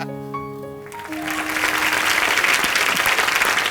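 A studio audience on a live comedy show breaks into loud, sustained applause that builds in after fading musical tones and keeps going strongly to the end.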